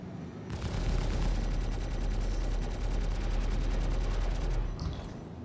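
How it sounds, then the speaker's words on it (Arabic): Spaceship weapons firing in Star Citizen, a loud sustained rapid burst of evenly spaced shots lasting about four seconds before cutting off, over a deep engine rumble. "الحين بديت اطلق بصوت"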